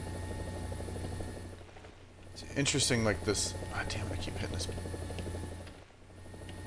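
Helicopter engine inside the cockpit in War Thunder, a constant low droning rotor hum with a steady whine running throughout, while someone talks over it midway.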